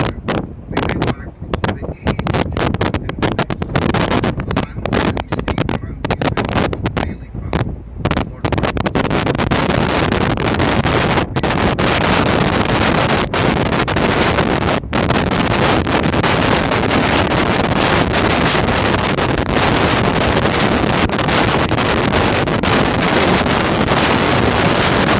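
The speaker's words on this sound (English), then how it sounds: "it is quite windy being the top deck here." Strong, continuous wind buffets the microphone in loud roaring gusts on the open top deck of a sightseeing bus in Inverness, with a brief voice early on before the rumble takes over completely.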